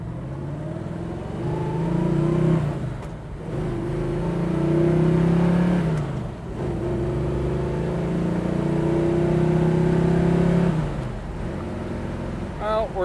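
A 1971 Chevrolet Nova on a road test accelerates through a couple of gears. Its engine tone climbs, dips at each shift and climbs again, loud and close over road noise, with a voice talking over it.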